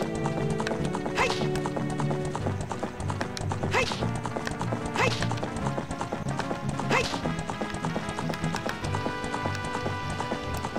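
Hooves clip-clopping and a horse neighing in the video game The Legend of Zelda: Ocarina of Time. Steady galloping runs over game music with a few whinnies, and a voice talks in the background.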